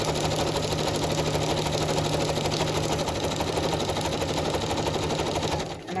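A sewing machine stitches through a tea-dyed paper journal page, producing a fast steady mechanical whirring chatter up close that runs continuously and then slows to a stop at the end.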